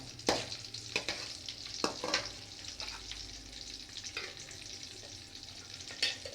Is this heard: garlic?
yes